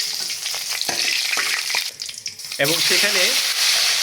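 Chicken fry crackles and sizzles in a hot pan with a steady, bright hiss, while a voice talks over it for most of the stretch.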